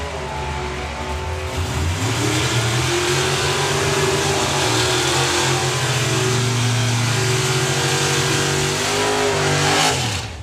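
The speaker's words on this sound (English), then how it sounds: "As soon as we hear engines, we'll be back with you." A drag racing car engine accelerates hard at a European drag racing finals event, a loud, continuous roar with rising pitch that holds for about ten seconds before cutting off abruptly at the end.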